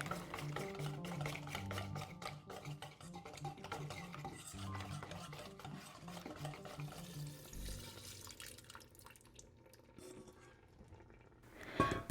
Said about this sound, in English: Mix them with a cup of water.